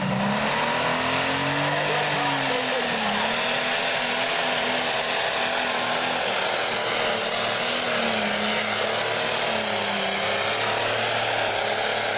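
A 7,700-pound Super Stock pulling tractor at an NTPA tractor pull in Shiawassee, Michigan, roars continuously through its pass, a loud, sustained engine scream with wavering pitch and little else audible.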